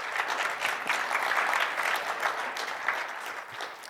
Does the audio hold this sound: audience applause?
yes